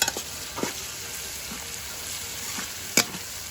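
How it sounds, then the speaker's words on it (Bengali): Steady, quiet sizzling of onions frying in a pan, with a few soft clicks and a brief metallic tap near the end. "পেঁয়াজ ভাজাভাজি হচ্ছে আমাদের"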